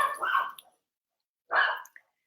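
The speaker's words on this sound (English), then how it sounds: "Sorry about the dog barking." A dog barks twice, loud and close, with a short gap between the barks and a tiny yip at the end.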